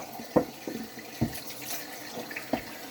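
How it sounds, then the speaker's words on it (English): Water running over a 3K Thuringian whetstone to rinse off the slurry, heard as splashy, uneven bursts of flow and splatter near a sink, with no talking. "I'm going to wash off the slurry of this very nice 3K stone"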